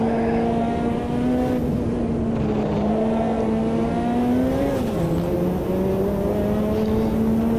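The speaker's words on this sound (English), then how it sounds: "So you get this kind of dead spot before the turbo comes on song" Turbocharged GTO race car in the Automobilista 2 sim revs and accelerates in a sustained, loud engine drone with rising pitch, a brief dip around a gear change, then pulling hard again, with no talk.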